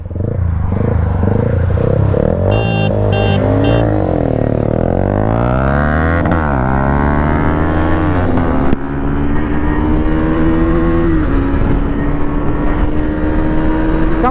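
KTM Duke 390 and Yamaha R15 motorcycles racing, engines revving hard with rising and falling pitch sweeps, loud and close, then one engine holding a steady high drone.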